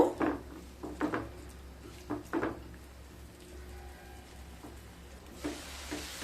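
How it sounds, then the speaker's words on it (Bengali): Spices for lasuni methi, dhaba style, cooked down in a pan with a little water: a few knocks and scrapes of a spoon against the pan over a faint, steady sizzle, close and fairly quiet, with no talking. "অল্প জল দিয়ে মশলাগুলোকে খুব ভালোভাবে কষিয়ে নেব।"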